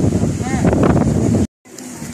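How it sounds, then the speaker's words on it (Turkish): Gusty wind buffets the microphone with a low roar under a speaking voice during a group bicycle ride in Mersin, cutting out briefly before the rumble returns. "Bir rüzgar çıktı"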